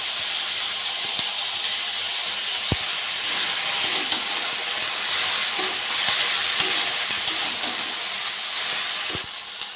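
Ginger, beaten egg and shredded cabbage fry in a hot pan with a loud, steady, continuous sizzle and hiss that runs through the whole stretch and no speech.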